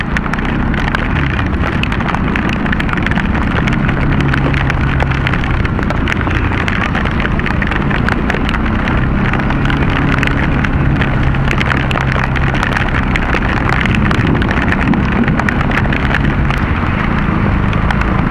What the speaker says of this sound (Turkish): güzel yağmur yağıyor. Yaz yağmuru.